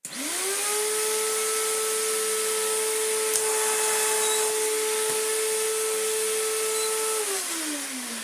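An Electrolux Z1910 self-propelled vacuum cleaner, running badly, starts with a rising whine, holds a loud steady motor tone for several seconds, then winds down near the end; no talking.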